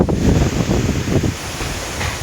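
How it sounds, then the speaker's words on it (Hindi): Strong stormy wind blasts across an outdoor microphone under clouding skies, a loud continuous roar with gusts that ease slightly toward the end, no talk. "तूफानी जी हवा चल पड़ी है, अल्लाह पाक रहमत करे, और बादल भी आ गए हैं।"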